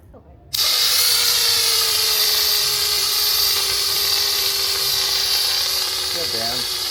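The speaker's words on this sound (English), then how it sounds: "even 11-year out-of-date fire extinguishers" An 11-year out-of-date fire extinguisher starts with a sudden loud blast and keeps up a steady, harsh rushing hiss for several seconds at close range, with a voice briefly heard under it near the end.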